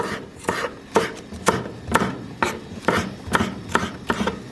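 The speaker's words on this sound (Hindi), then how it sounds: "ये हमने धनिया लिया है, इसको बारीक बारीक काटेंगे।" A knife chops fresh coriander (dhania) and green chilies finely on a board, about ten crisp, evenly spaced strikes close up, with no talking.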